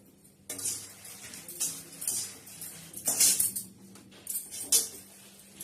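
Makhana roasting in a pan as it is stirred and flipped, giving light metallic scrapes and clinks of a spoon against the pan, with several rattling bursts and no voices.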